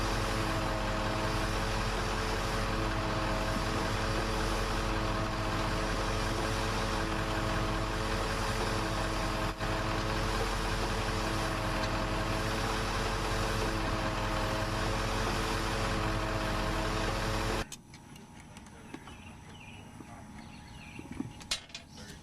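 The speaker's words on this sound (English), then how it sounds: "This is the pump we're using to remove the sand and fines from the bottom of the well" A pump pulls sand and fines from the bottom of a well during well development, giving a steady, loud mechanical drone with a low engine-like rumble that cuts off near the end, leaving faint background noise.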